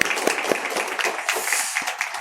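A Korean church congregation at Sunday worship in Uijeongbu claps in encouragement, a brief burst of scattered, distinct handclaps from a modest group, close and fairly quiet.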